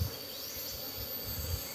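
Apis cerana honeybees drone in a low, steady, faint buzz as their colony is moved from its nest into a hive box, heard briefly with no voices.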